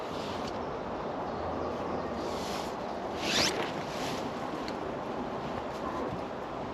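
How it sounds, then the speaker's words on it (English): A zipper runs along a fabric car storage organiser, a few rasping pulls close by over steady rushing background noise. "It's made from quite a nice material, and you've got a couple of zips there."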